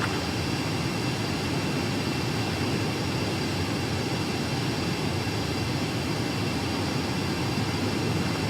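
Steady, dense roar of a jet aircraft on final approach to a runway in Ace Combat 7, broadband and unchanging throughout, loud and continuous with no voices.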